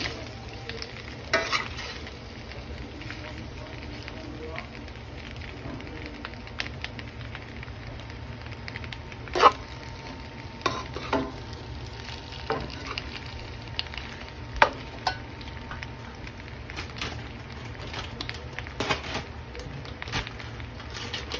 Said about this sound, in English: And now she's gonna mix it all together.